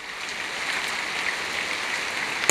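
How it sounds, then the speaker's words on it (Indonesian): Rain falls steadily outdoors, a constant hiss of drops like static. The level stays even throughout, with no voices. "Hujan ya Mas ya. Hujan."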